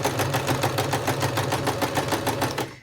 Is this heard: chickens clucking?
no